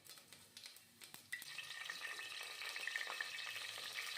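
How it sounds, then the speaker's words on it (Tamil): Fennel seeds tempering in hot oil for a mutton bone gravy: a few faint taps and stirs, then a sudden, steady crackling sizzle that stays soft and close, with no talking. "ஆயில் நல்லா ஹீட் ஆனதுக்கப்புறம் 2லேயும் கொஞ்சம் கொஞ்சமாக சோம்பு போட்டு தாளிச்சுக்கோங்க"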